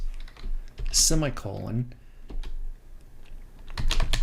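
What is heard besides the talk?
typing code on a computer keyboard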